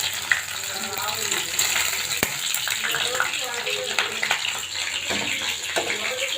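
Hilsa fish frying crisp in hot oil, a steady close crackling sizzle running the whole way with brief louder spits and a voice talking over it.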